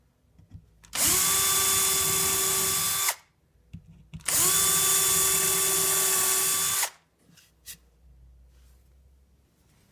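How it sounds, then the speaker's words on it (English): A power drill with a Miller stepped dowel bit bores into wood in two steady, loud bursts of about two and three seconds each, with a high whine. Short pauses and light handling noises separate them. "they come with a special drill bit that has the same profile as the dowel"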